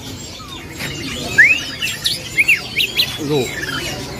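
A black kacer wulung magpie-robin gives loud, close whistled chirps and rising and falling calls in short bursts, with people talking quietly nearby.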